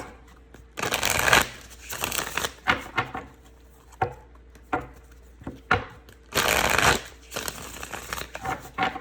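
A tarot card deck is shuffled by hand in two bursts of riffling, the cards rattling loudly and close, with softer taps and card handling in between and no talk.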